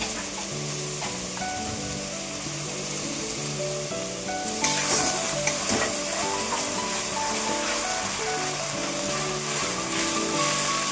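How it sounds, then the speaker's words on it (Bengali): Spice paste for fish kalia sautéed in a pan, a continuous close sizzle with scraping and stirring, getting louder and brighter partway through as the frying intensifies, no voices. "এটা মাছ ভেজে রাখা হয়ে গেছে, মশলাটা কষানো হচ্ছে।"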